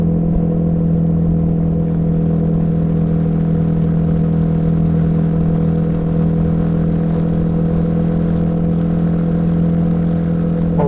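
A Royal Enfield Himalayan 450 motorcycle engine drones steadily and loudly while riding, a constant mid-pitched hum with faint clatter and no pauses.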